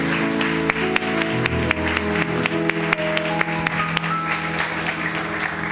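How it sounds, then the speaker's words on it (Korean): Church congregation applauding to celebrate a baptism during a Sunday service, a steady wash of clapping laid over sustained instrumental music for several seconds. "다시 한번 뜨거운 박수로 축하하도록 하겠습니다"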